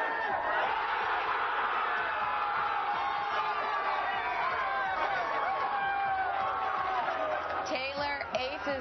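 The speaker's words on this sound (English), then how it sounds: "The crowd goes wild." A crowd of dozens watching at a Texas golf course erupts in sustained cheering, whoops and yells after a hole in one, loud and continuous across the whole stretch, with a voice talking over it.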